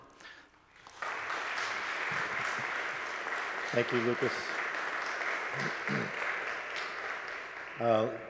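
Convocation audience at Carleton College applauds a philosopher, steady clapping rising after a quiet start and filling the room, while someone speaks briefly over it several times.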